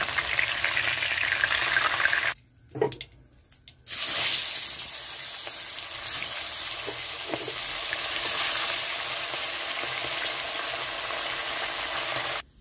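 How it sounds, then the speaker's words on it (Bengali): Soft bele fish frying in hot oil for a Bengali mustard-poppy curry, a loud close steady sizzle that drops away briefly for a second before resuming and hissing on until the end. "মাছটা কিন্তু ভাজার সময় কড়া করে ভাজতে হবে"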